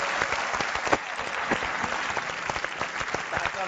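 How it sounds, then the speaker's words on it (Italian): A studio audience on an Italian talk show breaks into big applause, dense continuous clapping that stays loud and full, with a voice faintly audible underneath. "Grandissimo applauso."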